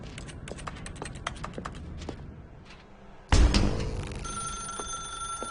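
In The Stanley Parable video game, a run of sharp clicks and taps leads into a sudden loud thump, followed by a telephone ringing with a steady electronic tone.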